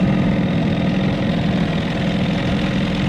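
A 1979 Johnson 15hp outboard motor idles on a lake, a steady low loud rumble with even throbbing and no pauses.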